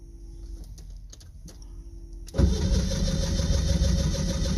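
An engine is cranked by its starter, slow grinding turns sounding in short bursts before it catches and settles into a loud, steady running roar partway through, with faint birdsong behind.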